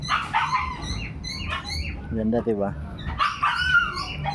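A pet dog whimpering and yipping with short high-pitched cries, heard between and under a person talking nearby.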